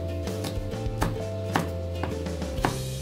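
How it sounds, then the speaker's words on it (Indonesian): Crushed garlic cloves chopped with a kitchen knife on a board, about half a dozen crisp, close chops in a loose rhythm over a steady low hum. "Ini langsung kita cincang saja"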